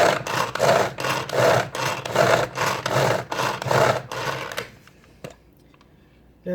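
A Tupperware pull-cord chopper yanked repeatedly: about eight rhythmic rasping whirs in quick succession, close and fairly loud, then quiet with a faint clack or two.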